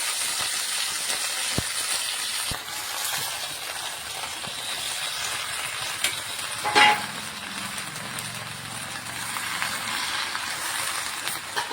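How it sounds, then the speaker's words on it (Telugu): Gongura leaves frying in hot oil give a steady, loud sizzle and hiss, broken midway by a brief clatter of stirring or a utensil. "మనము శుభ్రంగా కడిగి పెట్టుకున్న గోంగూర ఆకులను ఈ ఆయిల్లో వేయాలి"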